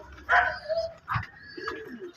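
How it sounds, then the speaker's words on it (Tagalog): Milky and blue bar doves coo inside a loft, giving a few short, soft coos in quick succession from close by. "Yan ang mga kalapate natin"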